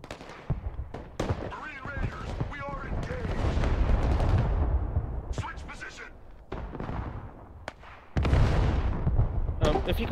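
Booming artillery fire in the Broken Arrow war video game, several heavy thuds and rolling rumbles mixed with game effects, while a player talks over them.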